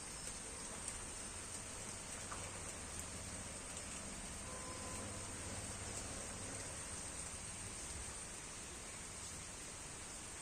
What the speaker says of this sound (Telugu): ఇక వర్షం చూడండి మిత్రం ఎట్లా పడుతుందో